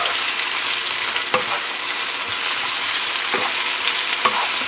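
Flat iron steak frying in a pan, a loud continuous sizzle and crackle with a few soft knocks, no talking.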